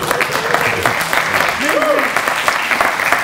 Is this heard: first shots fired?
no